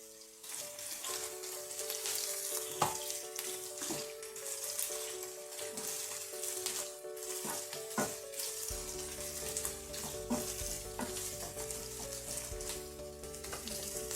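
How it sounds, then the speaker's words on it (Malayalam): Chopped onion with a little salt sizzles steadily in a hot pan. The frying hiss runs continuously, with occasional stirring scrapes and knocks, and a low hum grows stronger partway through. "ഈ സവാള ഒന്ന് വരയ്ക്കാം. അല്പം ഉപ്പ് ചേർക്കുന്നത് പെട്ടെന്ന് വഴഞ്ഞു വരും."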